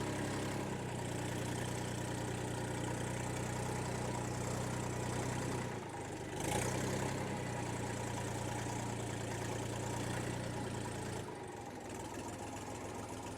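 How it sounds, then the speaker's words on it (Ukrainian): A Xingtai 240L mini tractor engine runs steadily in gear at a constant pitch for the whole stretch, with a brief dip and surge in the middle. "Двигун працює рівно."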